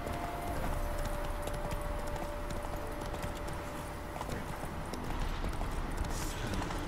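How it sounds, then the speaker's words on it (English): Steady clip-clop of horse hooves at a quick, even gait climbing a mountain in The Witcher 3: Hearts of Stone, continuous under a constant low background rumble. "I'm just climbing a mountain on a horse."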